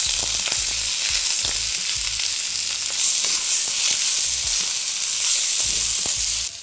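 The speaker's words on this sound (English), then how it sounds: "I'm gonna start by stir frying the veggies, a bit of vegetable oil into the wok." Vegetables, including pak choi, sizzle loudly in vegetable oil in a hot wok, a constant crackling hiss with repeated scraping and clinking from stirring, close up and with no talking.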